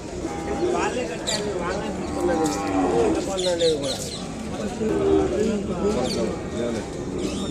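Ongole bulls and a calf moo at a cattle market in Kodada, several drawn-out lowing calls amid constant crowd chatter and nearby talking.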